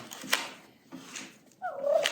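A turkey gobbles near Thanksgiving, a rattling warble that rises at the end of a short span of uneven rustling and breathy noise, fairly close and moderately loud.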